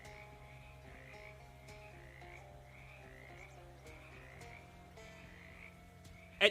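Frogs croak in the video game Shadows Over Loathing, a steady run of short, regularly spaced croaks at low volume with no talking.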